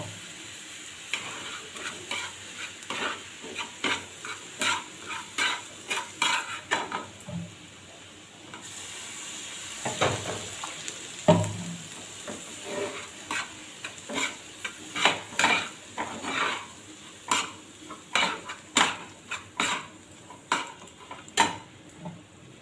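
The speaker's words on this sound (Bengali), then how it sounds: "জল দেবো অল্প অল্প করে।" Semolina frying in a pan as water is added little by little, with a steady hiss under rhythmic scraping stirs and clattering utensil strikes throughout.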